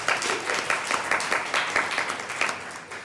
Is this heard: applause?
yes